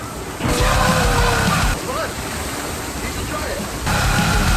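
Water splashes and rushes continuously at the Polynesian resort's pool water park at Disney World, a loud, steady churn with muffled voices mixed in.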